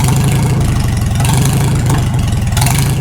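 A Farmall H tractor engine with newly repaired sleeves runs steadily as its carburetor nears empty, a loud, close, continuous low chugging with a rapid even beat and slight uneven surges, no talking.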